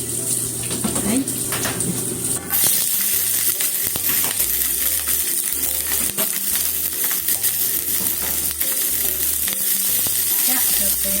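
Green peppers frying in oil in a pan: steady close-up sizzling with scattered clinks and stirring knocks, plus a low hum in the background, and quiet talk in places.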